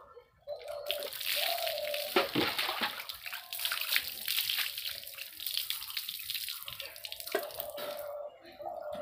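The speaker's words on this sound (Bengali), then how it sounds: "আরো বেশ কয়েকবার ধুতে হবে।" Running water rinses Holi colour and shampoo out of hair, a steady splashing flow with drips and sloshes, interrupted by brief pauses and handling noises.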